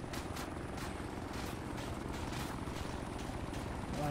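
A helicopter in a military video game, during a night operation, drones steadily with a rapid rotor chop, moderately loud and constant with no talk over it.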